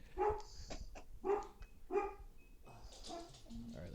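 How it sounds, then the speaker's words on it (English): A husky Aussie mix dog gives three loud barks in a steady rhythm, close by, followed by softer whimpering and shuffling. "That sounds like a big hound."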